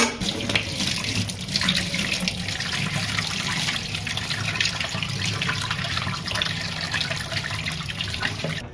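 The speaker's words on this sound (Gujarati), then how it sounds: "હવે આ રતારુને આપણે ધોઈ નાખીએ પાણીથી." Tap water runs steadily over peeled purple yam (ratalu) in a sink, a close, continuous splashing gush with small shifts as the pieces are rinsed, and no voices.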